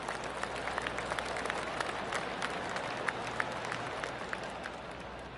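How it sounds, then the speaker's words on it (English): A crowd around the course of a golf video game gives polite golf claps, a steady, distant patter of scattered clapping over a low ambient bed, without talk. "I can hear the golf claps around the course."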